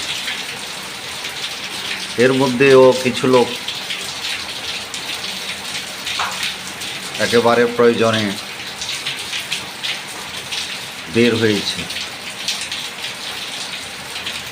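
Steady rain falls in Feni during a wet spell, a constant hiss running under someone speaking in three short stretches, with the downpour filling the gaps between his words.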